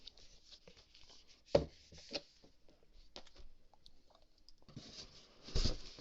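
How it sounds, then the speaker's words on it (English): Styrofoam packaging from a Batman: Arkham Origins collector's edition being handled during unboxing, producing quiet, irregular close-up squeaks, creaks and rubbing, with a few sharper bursts and no talking. "I hate styrofoam. I hate the sound, I hate the feel."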